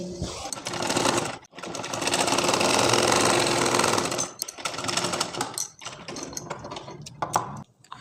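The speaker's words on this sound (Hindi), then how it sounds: "जहाँ पे थोड़ा सा गुलाई है वहाँ पे थोड़ा थोड़ा फोल्ड करते हुए थोड़ी थोड़ी सिलाई करिए।" A sewing machine stitching fabric for a tulip palazzo, running in a fast buzzing burst, pausing briefly, then continuing in shorter stop-start runs, close and loud.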